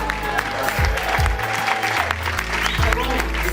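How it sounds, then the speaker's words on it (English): Crowd applause at a business seminar in Sacramento, a short, full burst of clapping with voices mixed in. "Let's give Mel a tremendous round of applause."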